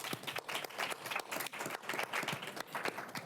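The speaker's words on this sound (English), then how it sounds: "So round of applause for all of them." Applause from an audience at a panel event on Islamophobia, a few seconds of loose, moderately loud clapping with uneven rhythm and no talk over it.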